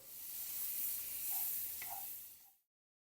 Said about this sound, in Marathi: आपण ही दाबेली आता भाजून घेऊ मंद गॅसवरती